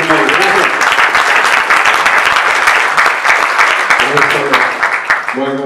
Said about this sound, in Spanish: Vamos a darle un fuerte aplauso a Gabriel Charles